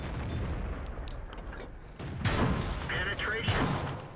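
Tank cannon fire in the video game World of Tanks, with a couple of heavy booming shots and impacts in quick succession under a person talking.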